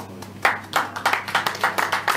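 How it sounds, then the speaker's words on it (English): Hands clapping at an evening entertainment show at a beach hotel in Hammamet, Tunisia: a run of about seven or eight sharp claps at a steady rhythm, moderately close, over a low steady hum. "I clap my hands for you."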